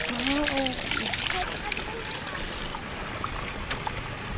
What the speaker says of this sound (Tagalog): Malakas ang pressure ng tubig.